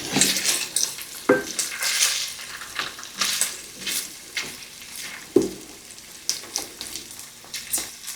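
Smoked kielbasa sausages brown in a hot pan with a steady close sizzle, broken by repeated scrapes and clacks of stirring against the pan.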